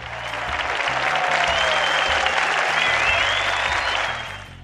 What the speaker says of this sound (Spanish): Aplausos, por favor, para Leticia.